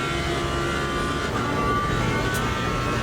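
A BMW race car engine in the racing game Le Mans Ultimate, a steady, fairly faint mechanical drone holding for a few seconds with no talk.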